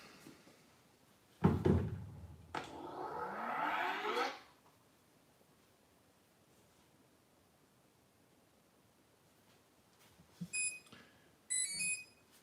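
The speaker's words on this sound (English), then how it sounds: "Now this beep tells us that the connection has been made." Beeps from an RC Bobcat skid steer confirming a radio link with its controller, heard as two brief clusters of faint high-pitched electronic beeps near the end, after an earlier loud rustle and whirring burst.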